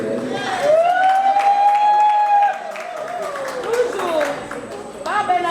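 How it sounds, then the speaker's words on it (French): Audience at an awards evening applauds and cheers an actress receiving a special mention, with dense crowd clapping, a long sustained whistle or shout riding over it, and voices mixed in throughout. "Encore des applaudissements pour elle."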